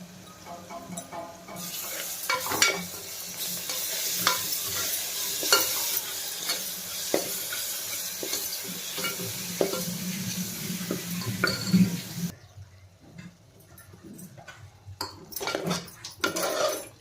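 Garlic, ginger and plenty of coriander stirred in hot oil for mutton kheema: a steady sizzle with repeated scraping of a spoon against the pan, close and continuous, easing toward the end.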